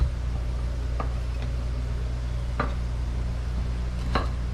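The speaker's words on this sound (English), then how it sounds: "lay them down, and cut them into batons." A knife cuts slabs of potato into batons on a cutting board: a few sparse, crisp taps at uneven intervals over a steady low background hum, with no talking.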